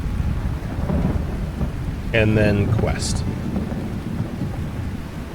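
Steady rain falls with low thunder rumbling under it during a thunderstorm in the farming video game Lightyear Frontier, while a voice talks briefly in the middle.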